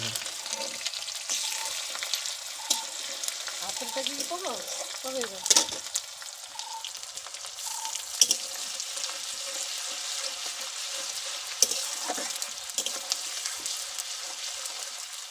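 Ground onion paste sizzles and fries in a pan with a steady hiss and occasional stirring clatter. The spattering stays close and continuous throughout.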